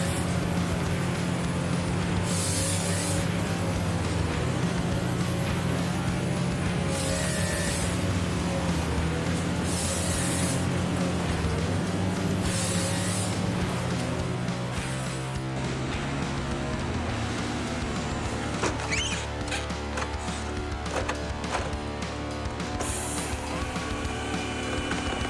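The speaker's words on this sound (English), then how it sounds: "The air echoes with the roar of the engine" A tracked forestry harvester machine runs with a steady, loud engine roar that persists throughout, with faint higher mechanical whines and hydraulic strains layered over the drone.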